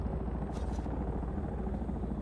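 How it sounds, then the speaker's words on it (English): A helicopter's steady low rotor thrum drones continuously at a distance in the video game Dune: Awakening, fairly faint, with a brief hiss partway through. "Oh, I hear a helicopter."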